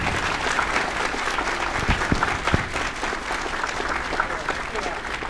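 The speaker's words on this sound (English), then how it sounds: "Let's give her a round of applause" Audience applause for a woman invited up on stage, a sustained dense wash of clapping at steady loudness, with a few sharper individual claps standing out and faint voices mixed in.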